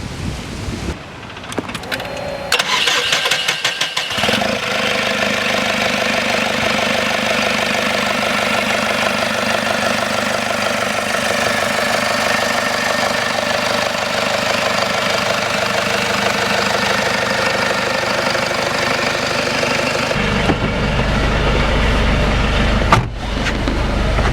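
Jeep Wrangler with a 3.8L ISF diesel conversion engine running while driving, a steady loud rumbling drone with knocking texture lasting over twenty seconds, ending in a brief burst of low noise, no talk.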